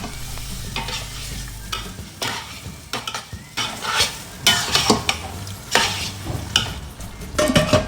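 Chicken pieces sizzle in hot oil in a pot for biryani while a utensil stirs and scrapes them in repeated close, loud bursts over a continuous frying hiss.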